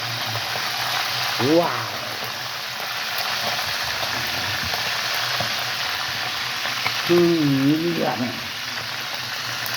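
Flattened chicken frying in a pan, giving off a constant close-up sizzle and crackle, with a couple of brief spoken exclamations over the cooking noise.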